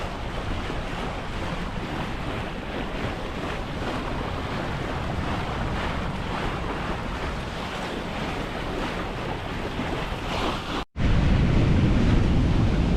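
Strong wind buffets the microphone while waves rush and slosh against a sailboat at sea, a loud, continuous roar that drops out briefly before returning louder.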